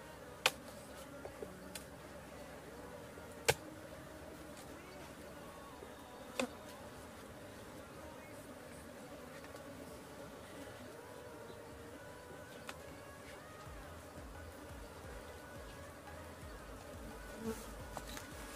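Bees hum steadily around a hive box made of cement blocks, a faint, even drone with occasional sharp clicks and taps from handling the box.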